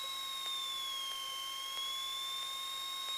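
A light aircraft piston engine drones steadily in the cabin while the propeller is cycled, a continuous loud hum whose whining pitch dips and then recovers, with faint periodic ticks underneath.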